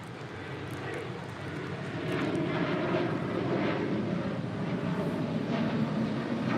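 A SkyWest airliner takes off from runway 25 right at LAX, a steady jet engine roar that swells and holds loud with broad rumble; faint radio chatter sits under it.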